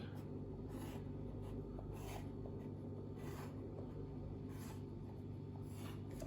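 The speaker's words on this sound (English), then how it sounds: "You have to draw a center line." Pencil scratching a center line onto paper for an engineering drawing of an external square screw thread, a soft steady scraping with a few brief louder strokes, close and alone under a constant low background hum.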